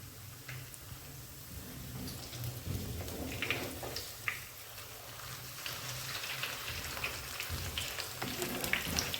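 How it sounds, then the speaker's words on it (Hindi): Crispy aloo besan snacks shallow frying in hot oil, a continuous dense sizzle and crackle with scattered sharper pops, steady and close throughout without any voices. "शैलो फ्राई मैं कर रही हूँ, आप डीप फ्राई भी कर सकते हैं।"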